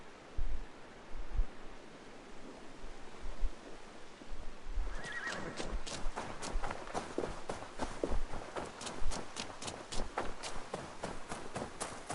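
Horse hooves clip-clop steadily in Assassin's Creed Valhalla, with repeated sharp hoof strikes that start around the midpoint, preceded by a whinny and set against soft ambient game noise.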